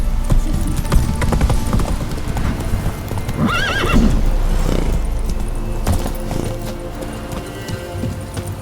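In The Witcher 3: Wild Hunt a horse gallops with loud, close, rhythmic hoofbeats throughout, and a whinny rises partway through.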